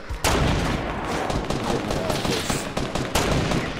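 Rifle shots in Fortnite, loud dense bursts of rapid gunfire starting abruptly and continuing throughout, with a fresh volley near the end.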